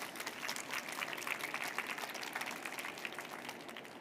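Steady applause from an audience at a departmental final of a children's reading-aloud competition, dense and even for the whole stretch with no voices on top.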